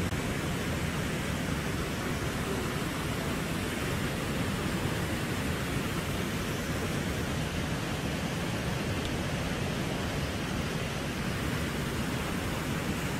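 Steady, dense rushing of Brooks Falls, the salmon waterfall where bears fish, holding loud and unbroken from start to finish with no voices over it.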